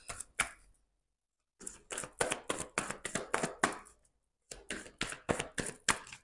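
Tarot cards of the minor arcana being shuffled give crisp, rhythmic riffling taps in quick regular runs that stop briefly between passes, close and quiet with no talk.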